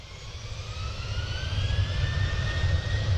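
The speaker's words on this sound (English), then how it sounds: "everyone at the airport thinking they hear the planes taking off, but it's actually my Sims updating" A computer running a Sims update roars like a jet taking off, a loud, steady low rumble with a thin whine that slowly rises in pitch and grows louder throughout.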